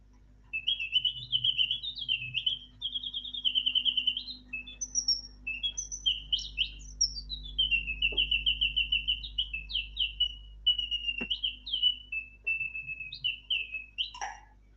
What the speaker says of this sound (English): This is the song of the siskin bird.